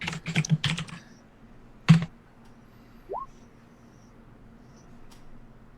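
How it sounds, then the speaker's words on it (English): Short bursts of computer keyboard typing, a quick cluster of clicks followed by a single sharper keystroke, then quiet room tone with a faint squeak. "He's typing."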